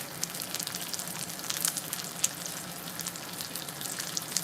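Dry aged steak sizzles steadily and up close in a hot pan as it is basted with aromatics, a dense continuous crackle with small pops and no voices.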